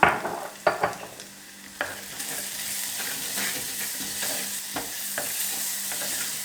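Onion and garlic sautéing in a pan for spinach curry, a soft continuous sizzle broken by a few sharp scrapes and taps of a spoon stirring, close and moderately quiet.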